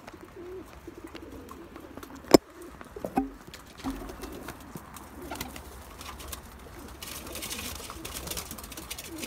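Tumbler pigeons in a rooftop loft in Mersin give soft, low cooing calls with some fluttering and shuffling, set against faint background noise and a sharp knock.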